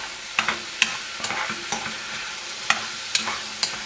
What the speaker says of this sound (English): Just stir this up really well.